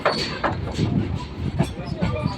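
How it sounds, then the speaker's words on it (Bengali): A Sealdah–Dankuni local train rolls along the tracks with rhythmic clacks and a steady rumble, loud and close. "আমাদের ট্রেন এখন চলে আসলো"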